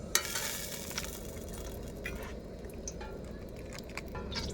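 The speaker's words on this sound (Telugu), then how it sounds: "సో ఇందులోకి ఇప్పుడు మసాలా దినుసులు వేసేసుకుందాం ఫ్రెండ్స్." Whole spices fry in oil and ghee for a vegetable pulao, giving a faint, steady crackling sizzle with occasional small pops and stirring scrapes throughout.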